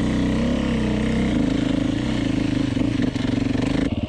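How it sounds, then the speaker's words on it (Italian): A Beta RR X-Pro enduro motorcycle engine turns over and settles into a close, steady throbbing idle with slight revving, loud and unaccompanied by speech. "e la moto riparte"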